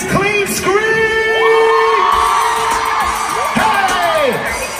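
A stadium concert crowd at Summer Jam in MetLife Stadium, East Rutherford, New Jersey, erupting in loud sustained screams and whoops, many high voices rising and overlapping in a dense wall of sound.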